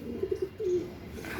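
A Madrasi pigeon held in the hand gives a few soft, low coos in quick succession followed by a longer drawn-out coo, fairly close over faint room background.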